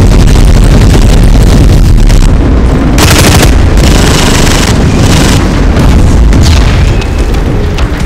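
Bombardment explosions in the video game DUST 514 pound continuously, forming a loud, dense wall of booming blasts and deep rumble with bright bursts of debris, with no voices.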